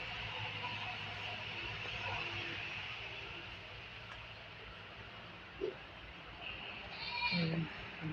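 Distant goats bleat a few times over a steady outdoor hum, with faint voices in the background.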